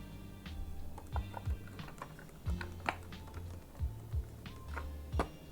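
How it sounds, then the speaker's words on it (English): Keycaps are pressed onto an Akko ACR Top 75 mechanical keyboard, heard as scattered close, quiet clicks and taps with small bumps and thuds at irregular intervals, no speech. "let's go ahead and put these keycaps on"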